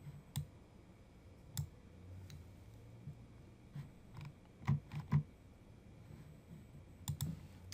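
Several quiet mouse clicks while stepping through a citation tool on a computer, spaced irregularly, with a tight pair near the middle and another pair at the end, over faint background hiss and no talk.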